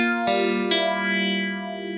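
Electric guitar played through a Kemper profiler with a Phase 90 phaser profile, two sustained strummed chords ringing out with a swirling, sweeping modulated tone and slight distortion, alone with no voices.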